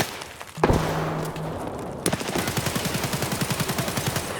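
Rapid automatic gunfire in Escape from Tarkov, a sharp burst followed by a steady stream of evenly spaced shots, loud and close, with no talking.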